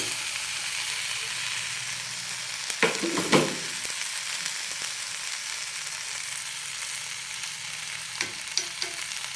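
Onions sautéing in a pan on lowered heat, a steady close sizzle throughout with a couple of brief stirring scrapes partway through.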